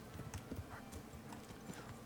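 Horse hooves clip-clop in a quick, uneven rhythm in the video game Kingdom Come: Deliverance, fairly close, with no voices.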